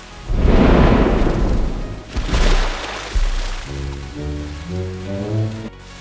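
Rain falling in an AI-generated clip, a loud close wash of rain with heavy rumbling bursts, giving way to a sustained tonal sound at the end.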